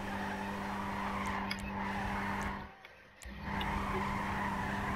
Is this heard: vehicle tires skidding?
yes